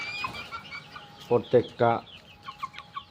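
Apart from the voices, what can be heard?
tiger breed chickens clucking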